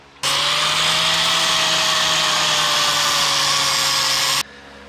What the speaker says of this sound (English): Time to grind it smooth.